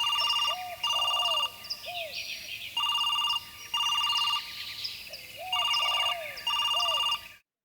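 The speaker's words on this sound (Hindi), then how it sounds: "घंटी बज गई" An old-style telephone rings in repeated double bursts, a bright warbling electronic bell, fairly loud and close, with faint chirps in between.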